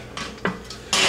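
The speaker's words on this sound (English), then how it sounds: "so we're going to actually flip pots." Metal cooking pots are swapped during taco soup preparation, knocking and clanking together in a few short, close, bright hits.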